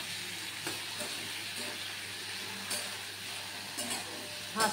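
Poppy seeds, turmeric and chili frying in hot oil, a steady close sizzle with a few brief spatula scrapes, no voices.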